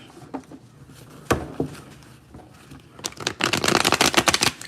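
A deck of tarot cards is shuffled by hand nearby during a reading: a few scattered riffles and taps at first, then a dense, rapid burst of flicking card sounds, with no talking.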